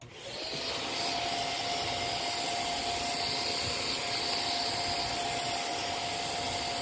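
A vacuum cleaner runs steadily while cleaning a sewing machine, a loud, even motor whine with a constant high-pitched tone after a brief start-up.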